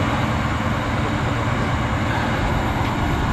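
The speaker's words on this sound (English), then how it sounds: "We're on the night train home now, so yay, should be quiet though." A night train running, giving a steady loud rumbling roar with dense low-end noise throughout, close by with no talking.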